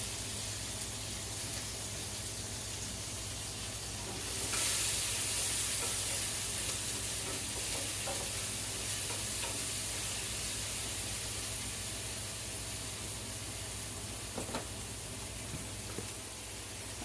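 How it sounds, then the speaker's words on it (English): Garden vegetables sautéing in a skillet give a steady, faint sizzle throughout, briefly louder about a third of the way in, with occasional soft clicks and no talking. "we're going to put this in the skillet. Want to saute it in."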